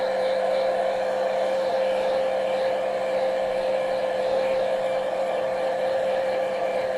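A hair dryer drying paint on a painting, a loud continuous steady whir with a fixed tonal hum, running unbroken and close throughout, alone without talk.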